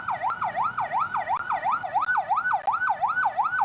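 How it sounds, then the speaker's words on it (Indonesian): A loud, close ambulance siren carrying a patient wails in a regular rising-and-falling cycle while stuck in a traffic jam near a toll gate on the road toward Tanjung Priok, with no speech. "satu mobil ambulans yang sedang membawa pasien turut terjebak saat akan masuk"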